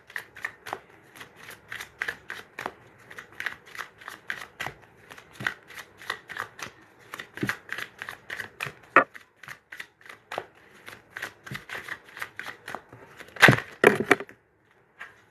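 Tarot cards are shuffled in a long run of quick, crisp riffling snaps at close range. The taps come in an uneven rhythm and build to a louder burst of shuffling near the end.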